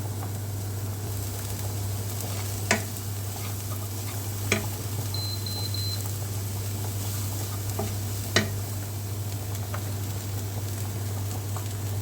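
Salted leek and potato pieces fry in a pan for a fish curry, a continuous close sizzle over a low steady hum, punctuated by a few sharp clicks of a stirring utensil.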